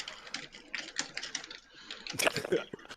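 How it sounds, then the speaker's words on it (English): Rapid typing on a computer keyboard during a sim racing stream, bursts of quick, uneven key clatter up close, with voices talking over part of it. "Lefson typing an urgent message. like a machine gun."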